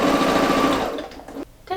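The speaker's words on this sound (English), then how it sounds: "Sew the shoulders together." A sewing machine runs in one quick, loud burst as the shoulders of a baby romper are stitched together, then stops abruptly with faint handling noise after.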